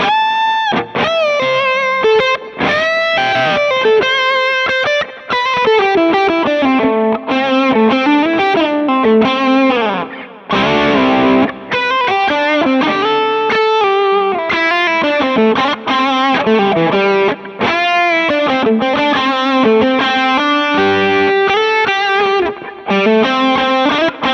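Heavily distorted electric guitar on the bridge humbucker playing a sustained, singing lead line with bends and vibrato, loud and continuous, with chord stabs and brief pauses.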